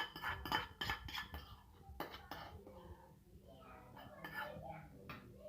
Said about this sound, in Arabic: نغرف الفول كده مع بعض